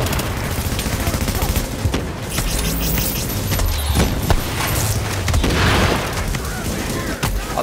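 Gunfire aimed at mortars in The Division's Clear Sky mission at Firecrest, a dense, sustained fusillade of shots and booms running throughout under game noise, with a voice speaking over it.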